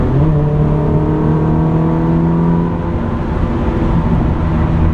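A 2004 Ferrari 360 Modena with a six-speed manual gearbox revs loudly and steadily while driving, its engine note rising in clear harmonic bands from inside the car. The roar is continuous for the full stretch, with no talking over it.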